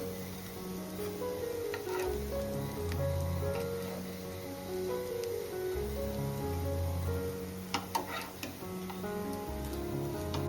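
Vadi made with kevala, a monsoon wild leafy vegetable, shallow-frying in a pan give off a steady, even sizzle for the whole stretch, with music-like tones running faintly underneath.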